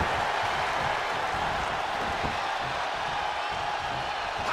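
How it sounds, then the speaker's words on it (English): A wrestling video game arena crowd roars with a steady, dense wash of cheering and applause that holds at a constant level throughout without a break. "What a raucous crowd here tonight."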